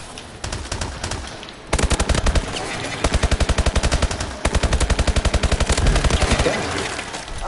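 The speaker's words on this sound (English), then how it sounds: "Those fucking dueling machine guns are huge." Machine gun fire in Call of Duty: Advanced Warfare: loud, close, rapid automatic bursts with dense evenly spaced shots, broken by brief pauses and continuing for several seconds, with no speech.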